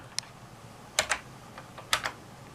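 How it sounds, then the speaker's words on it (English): Keys tapped on the small keyboard of a 6502 badge, a sparse few close clicks in quick pairs with gaps between, over a quiet hum. "I can type in V for monitor version"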